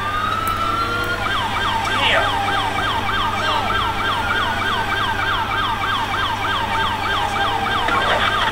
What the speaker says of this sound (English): No, it's an ambulance.